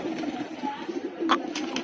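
Malwai Punjabi pigeons coo in low, soft murmurs under a steady background hum, with a few sharper flutters or knocks near the end.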